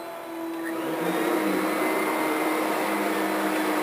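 A big Kirby upright vacuum cleaner motor drones loudly and steadily, ramping up in the first half second and then holding an even, whining roar with no voices.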